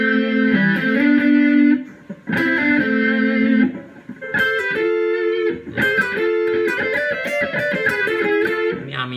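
Electric guitar run through a Harmonist pitch-shift effect set to a messy, clashing interval, played as several short phrases of notes and chords with brief gaps between them, loud and up close.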